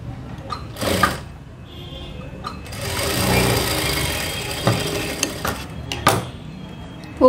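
A sewing machine stitches a folded blouse edge in several short bursts and one longer run of rapid mechanical whirring, close and fairly quiet.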